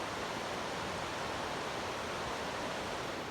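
Clear water of the Smith River in northern California flows steadily, an even broadband rush with no breaks, fairly quiet and heard alone without voices.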